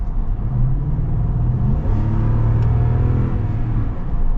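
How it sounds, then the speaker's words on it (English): A Toyota car engine runs and revs steadily at close range, a continuous low rumble with rising and falling pitch as the throttle is worked, with no talk over it. "I mean, the engine's performing as it should."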